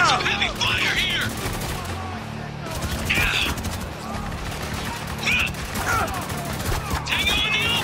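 Heavy, sustained automatic gunfire in the military shooter Spec Ops: The Line, loud dense bursts from several weapons with crashes and shouted squad voices over the top throughout.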